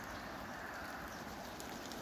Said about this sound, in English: It's currently raining right now.